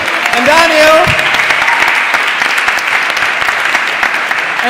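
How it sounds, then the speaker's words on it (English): Audience applause at a ceremony for the Brabant Dragons, a steady dense wash of clapping that holds throughout, with a brief voice and whistle-like tones early on. "Once more, round of applause for Anouk and Daniel."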